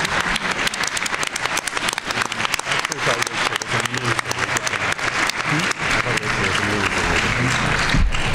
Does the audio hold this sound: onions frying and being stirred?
no